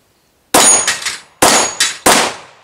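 Three sharp ringing clangs come from 9mm Glock 48 pistol rounds striking a steel target, each a loud metallic strike with a short decaying ring, spaced under a second apart with no talk.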